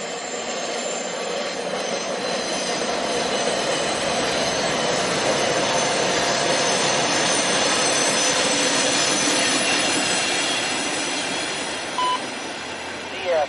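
A MARC commuter train rolls across the stone Thomas Viaduct, a sustained rumble of wagons and wheels with squealing rails, steady and fairly loud throughout, easing slightly near the end.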